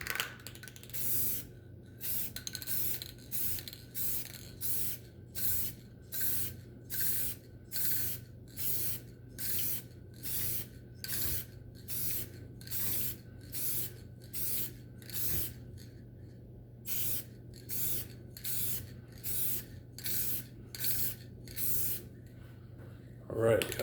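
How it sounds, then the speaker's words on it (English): Short bursts of spray-can hissing repeat at an even pace while refinishing hazy car headlights, about twenty quick sprays, close and steady with a faint hum underneath. "Spray a test shot."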